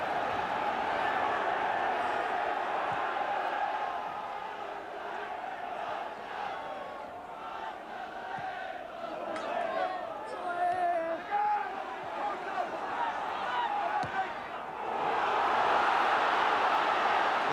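Football match crowd in the snow: a broad, continuous roar of many voices in a stadium, swelling and ebbing with a louder surge near the end, with commentary running over it.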